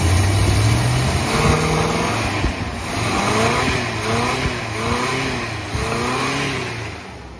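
Ford Fairlane engine with a newly replaced distributor, cold, revved repeatedly in rising and falling sweeps over a steady idle, loud and close with no voices.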